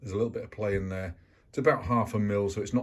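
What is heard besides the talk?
None of the usual background noises is heard.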